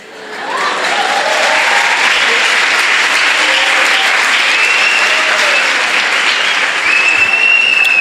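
Applause from the congregation at a youth church service swells quickly and holds steady, a dense wash of many hands clapping with a few faint cheers.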